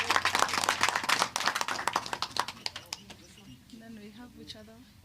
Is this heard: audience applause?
yes